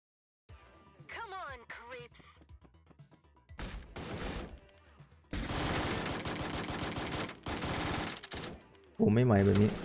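Gunfire in the tactical shooter game Door Kickers: Action Squad, loud bursts of automatic fire in several long volleys with short gaps, and game effects at the end, heard alone without talk.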